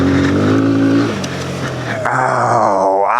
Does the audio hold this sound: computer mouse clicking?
no